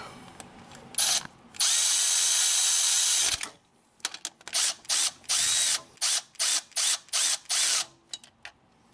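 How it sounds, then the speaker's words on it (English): Bolts on a power steering pump of a 2012-2015 Honda Pilot are driven tight, first with a long whirring power-tool run, then a rapid series of short, evenly spaced ratcheting bursts, all close up with no talking. "Now I just got to tighten them up."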